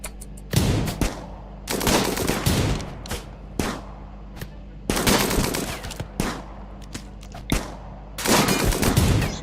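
Rimworld colonists trade gunfire in repeated rapid bursts of shots, loud and close, separated by brief pauses, with a low steady hum underneath and no talking.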